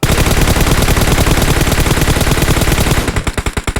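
Automatic gunfire in the battle royale game PUBG, a loud, nonstop stream of rapid shots that breaks into separate spaced bursts near the end.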